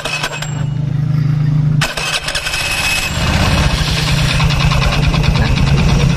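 A Honda Beat scooter with a troubled engine cranks briefly, catches after about two seconds and settles into a loud, close, rattly idle with a rapid knocking pulse.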